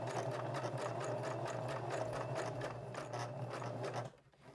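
A sewing machine stitching fabric at a short stitch length, a steady rapid mechanical chatter that runs continuously and then stops abruptly near the end.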